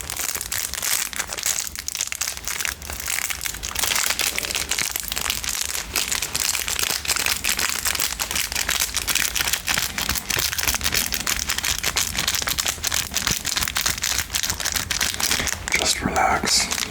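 Crinkling and crackling of a cigar being slid out of its wrapper, close and intimate in a gentleman's lounge setting, continuous small rustles with soft whispered speech over them.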